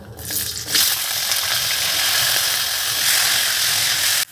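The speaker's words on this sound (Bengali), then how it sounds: "আর এই আলুটাকে বিশ সেকেন্ড একটু ভালো করে ভেজে নেব" Medium-sized potato pieces frying in hot oil tempered with nigella seeds, a steady loud sizzle right up close that starts with a sharp burst and continues without a break.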